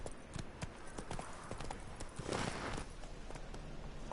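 Horse hooves clip-clop at a steady running rhythm across ground in The Witcher 3 video game, fairly faint, with a brief muffled voice in the background.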